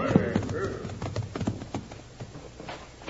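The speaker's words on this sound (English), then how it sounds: "Hey, here come some riders now." Horses' hooves clip-clop as riders approach in an old-time radio western drama sound effect, a quick uneven trot of several hooves, fairly close, with brief talk and a faint whinny mixed in.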